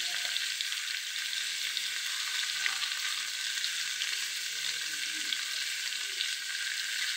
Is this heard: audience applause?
no